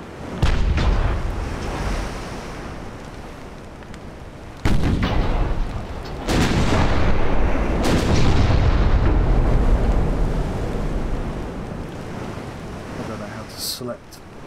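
Naval guns firing in the warship game Ultimate Admiral Dreadnoughts, heavy booming salvos with long rumbling decays and a roar like surf, loud and repeated across the clip.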